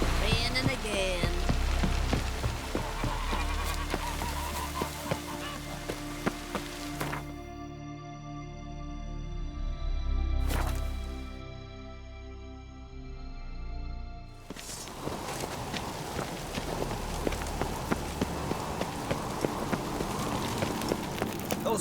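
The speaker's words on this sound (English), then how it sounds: "It's raining." Steady patter of rainfall in The Witcher 3 fills most of the stretch, dropping out for a while in the middle where a sustained musical tone takes over, then returning.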